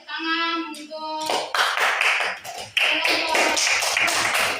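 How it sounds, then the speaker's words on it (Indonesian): A class bursts into applause for a group of students, with dense, steady clapping from many hands filling the room after a brief tonal sound at the start. "Iya, kita tepuk tangan untuk"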